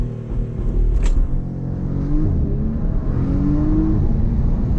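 A Porsche Panamera accelerates hard under launch control, its loud, close engine roaring and rising in pitch through the gears, with brief shifts audible along the way.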